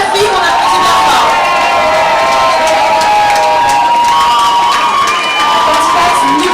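A pageant crowd cheers loudly for a contestant at a beauty contest evening, continuous shouting and whooping with applause mixed in, dense and close throughout.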